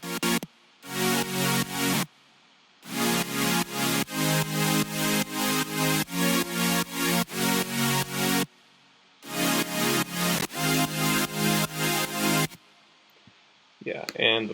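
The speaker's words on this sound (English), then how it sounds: "a serum with a saturator, the drive boosted up a little bit, and" Future bass synth chords from Serum, two detuned saw waves with heavy unison, one pitched up an octave, run through a saturator with drive and EQ; loud full-band rhythmic stabs in gated bursts with brief gaps, ending in a short faint tail.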